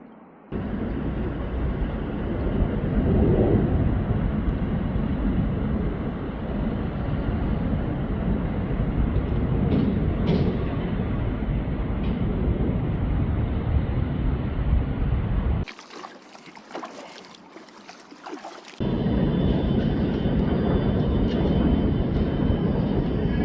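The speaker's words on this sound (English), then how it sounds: "Got an airplane coming in." A United passenger airplane coming in to land over the Passaic River in New Jersey, heard from a kayak as a loud, sustained roar that drops away briefly before returning.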